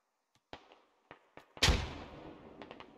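A grenade going off in the military shooter Squad, with a few scattered distant gunshot cracks and then a single heavy, close blast that rumbles and decays over about a second, followed by faint pops.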